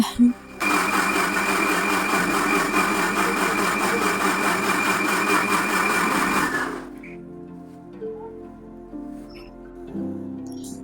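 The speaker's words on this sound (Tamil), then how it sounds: "நான் இங்கே மிக்சி இறைக்கிறேன் அந்த மிக்சி சவுண்டுக்கு பாப்பா டான்ஸ் ஆடுறப்பாருங்க" A kitchen mixer grinder whirs loudly as it grinds tomatoes and dried chillies, a steady buzzing drone for several seconds before cutting off abruptly, leaving quiet room sound.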